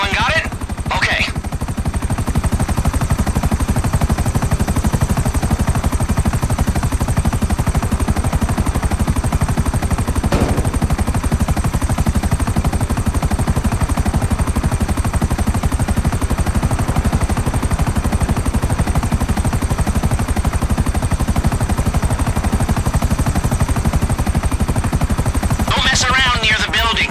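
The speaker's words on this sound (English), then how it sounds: "It still is a chopper, so you're not exactly invisible." A helicopter in GTA Online, a loud continuous rotor drone and engine roar that stays steady throughout, with game sounds and a voice heard briefly over it.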